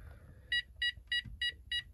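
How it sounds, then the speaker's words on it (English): Texecom Veritas alarm panel with a tamper fault, emitting five short, evenly spaced electronic beeps, quiet over faint low background hum. "So here we have our beeps of death again."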